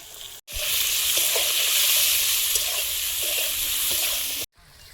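Potatoes frying with salt and turmeric in a pan for a pangas fish curry, a loud continuous sizzle that starts abruptly and runs steadily for about four seconds before cutting off, with no talking.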